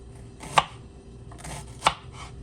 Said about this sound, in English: Let's just chop up the onions up first, okay?